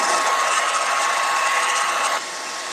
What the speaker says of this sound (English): So I'm going to grab the hip blow dryer really quick, give it a quick zap so it dries.